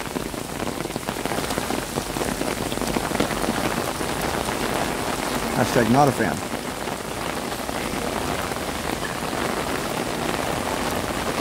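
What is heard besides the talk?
heavy rain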